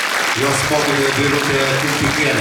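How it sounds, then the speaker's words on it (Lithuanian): An audience applauds a young performer at a February 16 celebration, with dense, steady clapping that carries on throughout while a voice speaks over it. "Ovacijos Medai"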